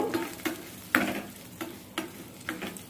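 Mustard seeds, asafoetida and other tempering spices crackle in hot oil for a bottle gourd chutney, a light continuous sizzle broken by sharp pops and scraping stirs of a spoon in the pan, close and without talk.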